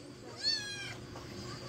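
A hungry stray cat gives one clear, rising meow at close range, followed by quieter background sounds.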